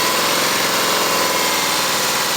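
A four-cylinder engine firing on only two cylinders runs under a heavy load, giving a steady, loud, rough mechanical drone with a low uneven pulsing throughout and no voices.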